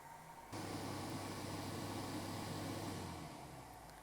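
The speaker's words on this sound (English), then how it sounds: "we're going to turn on our blower control down here" HVAC blower fan switched on during a duct airflow test, a steady broadband whoosh with a low hum that starts abruptly and runs continuously, easing slightly toward the end.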